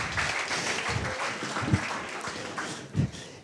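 Audience applause greets a woman called up onto a stage at a live show, with uneven clapping and a few louder low thumps breaking through the patter.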